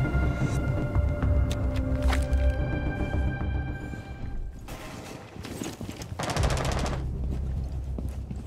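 Gunfire in Rainbow Six Siege sounds as a rapid burst of close, loud shots followed by a pause and further scattered blasts and clatter amid game sounds.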